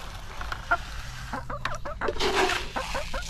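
Backyard pet hens mill about at feeding time with brown-feathered birds among them, giving short scattered clucks and rooster-like calls over steady outdoor ambience, fairly close and moderately loud.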